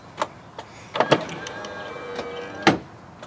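An electric Thule step extends from a 4x4 off-road campervan, a steady motor whir running for about two seconds between sharp clunks and knocks at its start and finish.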